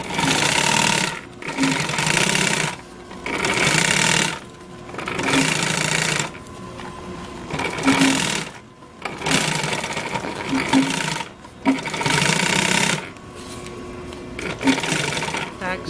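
Sewing machine stitching a seam in vehicle seat upholstery fabric, running in repeated bursts of a few seconds each separated by short pauses, close and steady.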